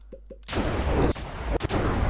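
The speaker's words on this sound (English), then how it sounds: "So it's a massive explosion with fire and lightning." A massive spell explosion of fire and lightning in Minecraft with the Magiz mod: two small clicks, then a sudden loud booming blast that rumbles on, broken by sharp crackling lightning strikes.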